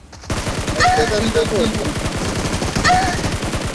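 Rapid automatic gunfire from the battle royale game BGMI rattles in dense bursts nearly throughout, loud and close, with a game voice or chatter briefly heard over the shots.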